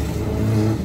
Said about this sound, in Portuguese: Ele acelera mesmo